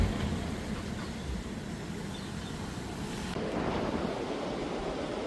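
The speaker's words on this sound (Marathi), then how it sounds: "आम्ही बीचवर पोहोचलो आहे आता बघू शकतो बीच कसं दिसतं ते इथून" Ocean waves breaking at a beach at normal tide, a steady broad wash of surf mixed with wind buffeting the microphone, continuous and moderately loud with no voices.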